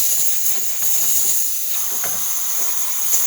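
A DeLonghi Magnifica espresso machine's steam wand gives off a steady, loud hiss of steam that holds evenly from start to finish, with no voices over it.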